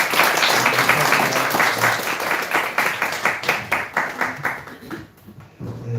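A church congregation at a Sunday pastor installation service applauds together, loud close clapping that stays dense, then thins into individual claps and fades out near the end.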